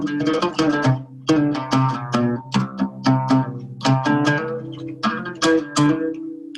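A melodic phrase in Middle Eastern style that uses quarter tones, played on a plucked instrument. Quick, bright notes fall in short rhythmic bursts with small gaps between them, close and clear, and no voices.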